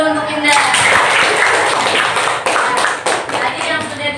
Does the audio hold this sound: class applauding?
yes